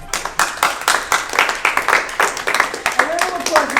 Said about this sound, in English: A little applause is all I ever wanted. Just a little applause.